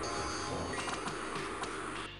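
A swelling, whooshing rush of air elementals arriving in the strategy game Dominions 5, broad and continuous with a few brighter gusts, fading slightly at the end; no speech.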